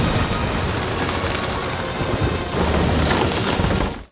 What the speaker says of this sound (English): the dark sky was suddenly filled with lightning and thunder, and a violent rainstorm began to fall